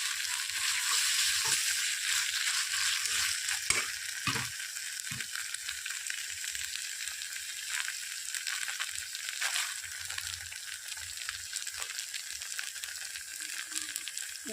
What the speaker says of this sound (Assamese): এতিয়া এইখিনি অলপ সময় মই ভাজি ল'ম ভালদৰে।